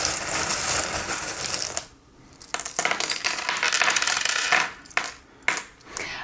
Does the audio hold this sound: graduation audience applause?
no